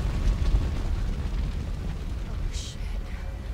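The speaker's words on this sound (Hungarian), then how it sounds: "Ugye be is robbanik." A leaking-fuel explosion in the Resident Evil 2 Remake video game, a heavy low rumbling roar that fills the whole stretch and slowly settles, with a brief brighter crackle near the end.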